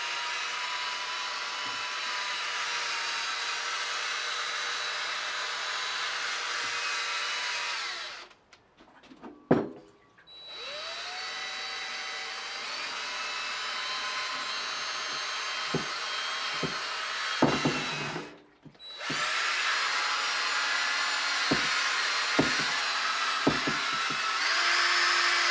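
A handheld machine polisher with a polishing pad buffs rubbing compound across a motorcycle fuel tank, a steady whirring drone broken by two short pauses with brief clatters before the whine resumes.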